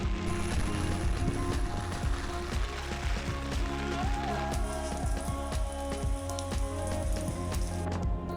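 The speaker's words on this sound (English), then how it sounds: "the rain was still pouring down" Heavy rain pours down at a Hokkaido campground, a dense continuous patter of drops with scattered sharper splashes, steady and close throughout with no voices.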